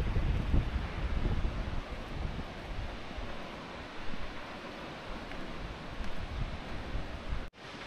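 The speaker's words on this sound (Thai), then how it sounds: "ระหว่างทางที่เดินลงไปก็จะรู้สึกถึงลมที่ตีขึ้นมาจากความแรงของน้ำที่ตกลงมาครับ" Nachi waterfall in Kii-Katsuura, Japan, sends up a steady, dense roar of falling water mixed with gusting wind buffeting the microphone, continuous and loud throughout with no voices.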